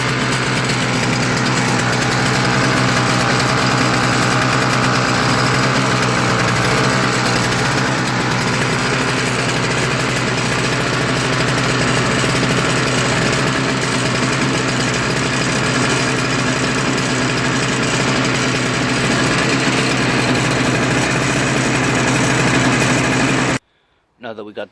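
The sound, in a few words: Toro CCR 3650 snow blower engine running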